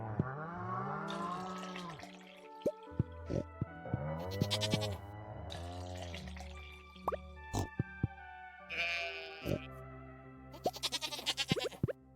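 Several goats bleat in turn in Stardew Valley, wavering cries alternating with short dripping and plinking game sounds, fairly close, with no speech.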